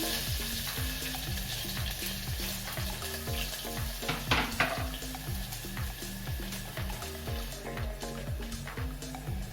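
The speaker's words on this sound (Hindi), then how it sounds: "सबसे पहले डाला कुकर में ऑयल, ये डाला जीरा, ये डाली ढेर सारी लहसुन" Garlic and cumin sizzle and fry steadily in hot oil in a pressure cooker while a utensil stirs and scrapes against it in a repeating rhythm, close up.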